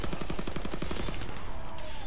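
Rapid automatic gunfire in a zombie survival video game, a loud dense burst of evenly spaced shots over noisy game sound.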